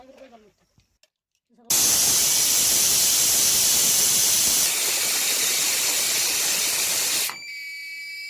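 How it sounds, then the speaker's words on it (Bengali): A pressure cooker on a gas stove vents with a sudden, loud, steady rush of steam hiss that holds for several seconds before easing off, cooking duck meat with new potatoes. "এখন আমি প্রেশার কুকারের মধ্যে দিয়ে গ্যাসে পাঁচটা সিটি দিয়ে নেব"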